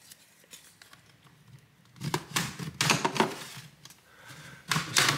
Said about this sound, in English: I'm going to try and split the seam. A plastic pry tool.